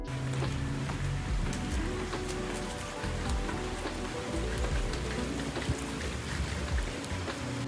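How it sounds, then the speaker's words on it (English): Steady rain pours down on a nasty, wet day, a dense continuous patter of drops on surfaces close by, unbroken throughout without any talking. "As you can tell, got a nasty rainy day here."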